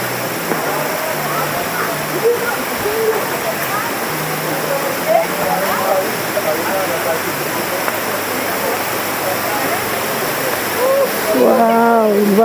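Aliw Falls waterfall at an eco-resort in Luisiana, Laguna, with a steady broadband roar of falling water throughout, while people talk and call out nearby over it.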